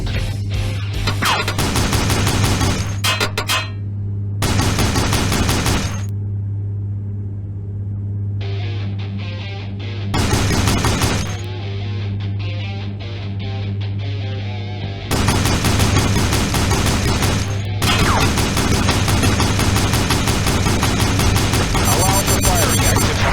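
Video game gunfire during an attack by combined forces: loud bursts of automatic fire and rapid shots come in repeated volleys over a constant low hum, with brief quieter gaps between them.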